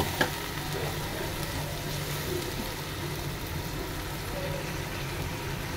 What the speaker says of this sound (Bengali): হলুদ, মরিচ, জিরা গুঁড়া দিয়ে কয়েক মিনিট ভেজে নেব